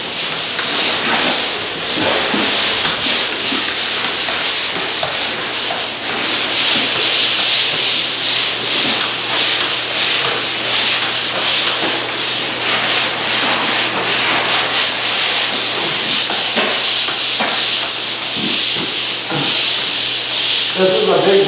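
Drywall joint compound being sanded by hand in a large room: continuous, loud, rhythmic scraping strokes of abrasive against the wall, close up, with no talking.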